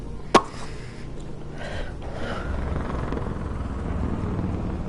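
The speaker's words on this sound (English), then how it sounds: "there's a helicopter." A helicopter drones in the video game Detroit: Become Human, a sustained rotor rumble with rising whooshing pulses after a sharp bang at the start, growing steadily stronger.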